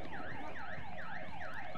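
An electronic alarm in the video game Battlefield Hardline, wailing in a steady repeating up-and-down sweep, four cycles in under two seconds, loud and continuous with no talk.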